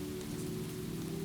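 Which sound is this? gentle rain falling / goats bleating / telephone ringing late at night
gentle rain falling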